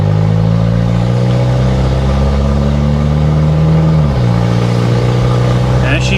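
A Hyundai Tiburon's engine drones loudly and steadily while driving, with a pitch drop near the end as it shifts gears, heard up close inside the car.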